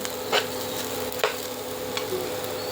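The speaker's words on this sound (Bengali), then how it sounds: "একসাথে দিয়ে ভালো করে ভাজি করে নিতে হবে। ঘি দিয়েছি" Ghee sizzles steadily in a pan as dal and other ingredients fry for a mixed vegetable dish. A close, even hiss carries a few faint clicks, with no talking.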